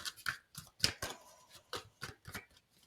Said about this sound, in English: this is just literally going to be me shuffling